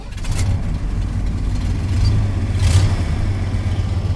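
John Deere 2240 tractor engine on a cold start, a steady loud low rumble held throughout with no talk.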